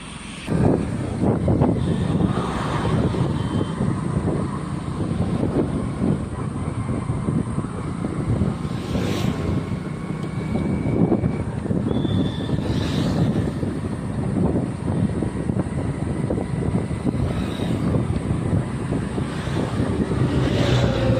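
A friend's new motorbike being ridden along a road, its engine droning steadily with heavy wind buffeting the microphone throughout, loud and continuous with no speech.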